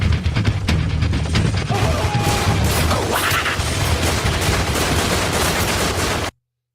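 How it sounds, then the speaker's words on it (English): Shotgun blasts boom in quick succession, loud and close, forming a dense, continuous volley of heavy gunfire that cuts off abruptly at the end. "Oh, they're shotguns."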